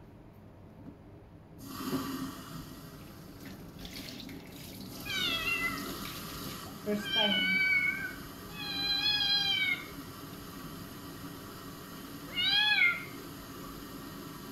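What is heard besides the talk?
cat meowing while being bathed with water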